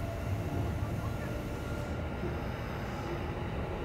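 A Hanshin train rumbles steadily into an underground station, a constant low roar with rattling throughout, fairly loud and close.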